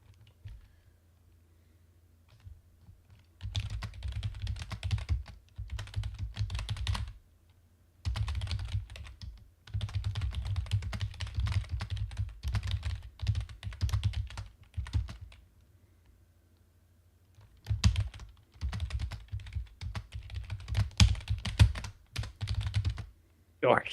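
Rapid keyboard typing in bursts separated by short pauses, close and fairly loud, with clacking keys sounding hurried and forceful during a Destiny Crucible gaming session; no one talks.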